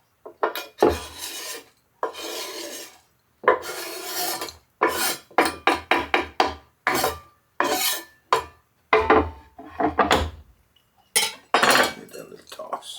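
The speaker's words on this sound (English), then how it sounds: "We got 6 slices of bacon here. We're just going to chop that up too." Six bacon slices chopped with a knife on a board, bursts of rapid sharp knocks and scraping strokes with brief pauses between runs, loud and close, no voices.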